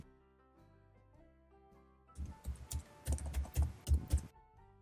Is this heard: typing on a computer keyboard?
yes